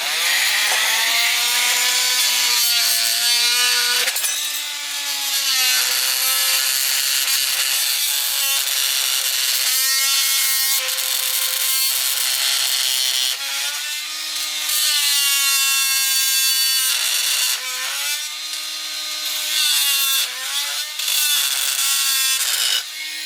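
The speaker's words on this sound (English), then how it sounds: "I'm going to use my Bosch carbide tip multi-tool blade." Bosch carbide-tip oscillating multi-tool blade cutting through a rusted steel tire bead stuck to a wheel rim of a 1970 Honda Z50 mini trail, a loud continuous buzzing whine that wavers in pitch with brief dips as the cut proceeds.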